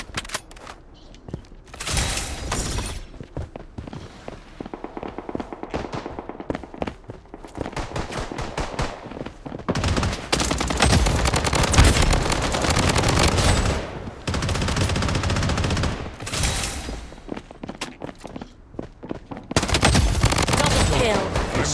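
Gunfire in a shooter video game, with repeated machine-gun bursts and volleys coming in loud clusters separated by quieter gaps, and a voice talking at times between the shots.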